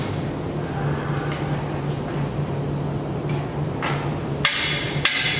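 On a Current Tools Model 752 bending work station, the ratchet arm pulls down and engages the shoe and pawl, giving two sharp metallic clicks close together over a steady low machine hum.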